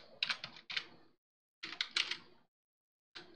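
Close, quiet clusters of keystrokes on a computer keyboard, two short runs of rapid taps separated by a pause, with a final tap at the end and no talk.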